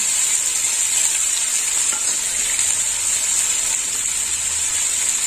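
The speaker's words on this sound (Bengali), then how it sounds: "পেঁয়াজটা একটু লাল লাল করে ভেজে নেব।" Onion paste sizzling in a hot pan for a curry, a dense, steady bright hiss that holds loud and close throughout with no voices.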